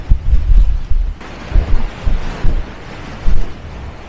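Baltic Sea waves splash over on the south beach of Fehmarn in strong wind, heavy rumbling gusts and surging water with uneven peaks, loud and close to the microphone.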